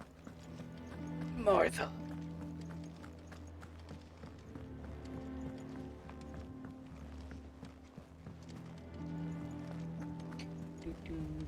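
Horses galloping in the video game Final Fantasy XVI: steady hoof clip-clop under a continuous musical score, with a loud shout early on and voices speaking over the scene.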